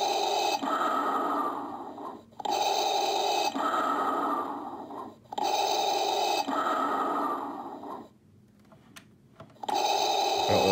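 Hasbro Black Series Darth Vader electronic helmet playing its breathing effect: slow, loud mechanical inhale-exhale cycles repeating about every 1.7 seconds, with a brief pause near the end before the breathing resumes.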